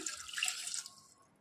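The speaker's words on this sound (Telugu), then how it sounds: "ఇప్పుడు ఇందులోనే 1 గ్లాస్ వరకు వాటర్ యాడ్ చేసుకోవాలి." Water pours into mutton in a pot, a bright splashing stream that runs for about a second before tailing off, close and moderately loud with no talk.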